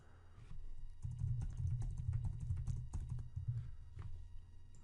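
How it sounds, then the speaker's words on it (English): Quick bursts of typing on a computer keyboard, close and fairly quiet, with irregular key clicks clustering into runs and brief gaps. "now you can start typing whatever you want"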